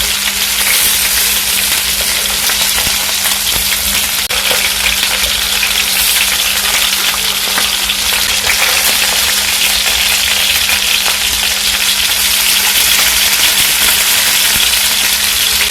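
Meatballs fry slowly over low heat in a pan, giving a steady, loud, continuous sizzle with a faint underlying hum and no talking.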